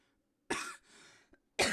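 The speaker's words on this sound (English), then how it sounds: "Oh, I'm gonna be coughing this entire time." Two sharp, close coughs separated by a short pause, with a faint raspy throat sound in between.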